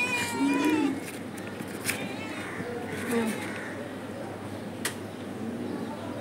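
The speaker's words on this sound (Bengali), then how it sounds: "এটা মনে হচ্ছে কারো পালা বিড়াল।" A lost pet kitten meows several times, thin and close, at the start and again midway, with a person's soft voice and background noise around it.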